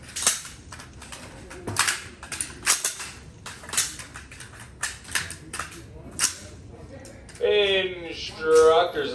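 Rifle gunshots ring out at an outdoor shooting range, a string of sharp, loud cracks spaced irregularly through the first several seconds, followed by a raised voice calling out near the end.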